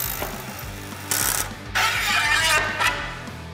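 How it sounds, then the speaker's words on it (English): A Makita 18V cordless tool spins a hollow socket to tighten a nut onto threaded rod, producing a close, loud mechanical whir with ratcheting clatter and short bursts of higher-pitched grinding, no speech. "now you've got to tighten up that nut"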